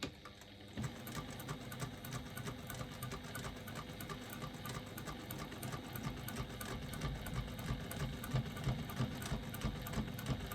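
A sewing machine runs steadily while stitching a 1/4 inch seam on a wristlet, a fast even mechanical whir and needle patter that stays constant and close with no talking.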